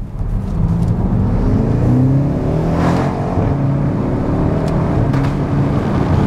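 A deep V8 engine roar from a BMW X5 M Competition SUV drones steadily with rising and falling revs, heard from inside the moving vehicle, loud and continuous, with exhaust pops on gear changes.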